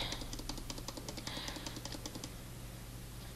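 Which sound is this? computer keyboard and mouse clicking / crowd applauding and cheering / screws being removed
computer keyboard and mouse clicking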